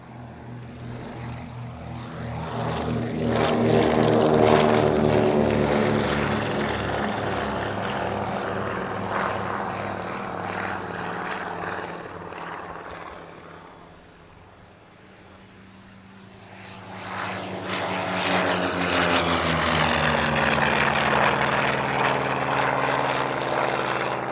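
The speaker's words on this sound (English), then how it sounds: "First into the air, the Catalina Society's PBY-5A Catalina, followed by the F4U Corsair of the Amicale Jean-Baptiste Salis" A PBY-5A Catalina and an F4U Corsair take off at an airshow at Paris-Villaroche, their piston propeller engines droning loud and close, with a strong rumbling swell that eases midway and then rises again as the second aircraft powers up.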